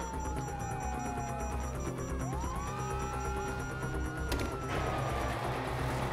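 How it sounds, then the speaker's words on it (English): Wailing police sirens in GTA 5 sweep up and down over a constant low engine rumble, with a sharp crash midway and a busy, game-like soundscape throughout. "Oh, fuck, you hear that? Sirens."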